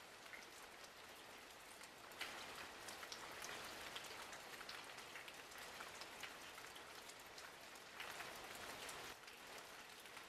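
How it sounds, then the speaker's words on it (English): Steady rain falls and patters on surfaces, a dense, even hiss with scattered drop impacts, moderately close and continuous without any voices. "Rain, trickling down."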